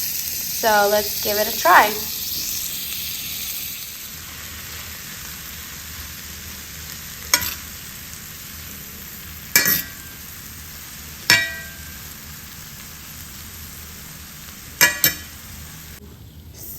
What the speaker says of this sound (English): Sauteing the veggies.